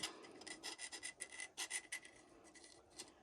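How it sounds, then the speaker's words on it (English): Steady rasping strokes scrape citrus strip residue off a thermoflask, a close, quiet series of rough rubbing passes in a loose rhythm that ends in lighter scratches, with no voices. "I'm going to kind of try to scrape this off a little bit more"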